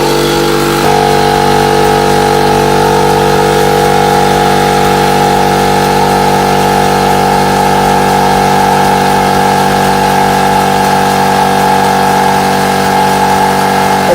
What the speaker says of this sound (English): That's pumping up very quickly.